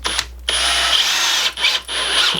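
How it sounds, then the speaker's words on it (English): Power drill driving screws into 2x4 boards while a bench is built, two loud whirring bursts with a short pause between them, close by and with no talk. "once everything is in alignment, you can add your screws."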